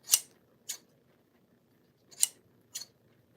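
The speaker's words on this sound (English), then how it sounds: "Are we talking about these scissors?" Four crisp metallic snips in two quick pairs, close and fairly loud, with quiet gaps between and no talking.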